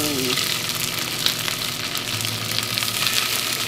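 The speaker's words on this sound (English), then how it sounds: "Ah, nice sizzling." Salmon fillet laid skin side down in a hot frying pan, crackling with a steady, dense sizzle that holds close and loud throughout, with no talking.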